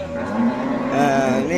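A cow at the Pasar Pon Blora cattle market in Indonesia, where pregnant cows and heifers are sold, gives a loud, close, sustained moo that swells and wavers over low market background noise.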